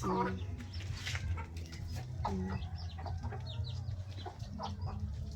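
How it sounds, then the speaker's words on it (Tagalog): Chickens cluck and squawk continuously as they are fed, a busy flock close by, with scattered sharp calls over a low rumbling background. "Nagpakain na naman ng manok si Dudong."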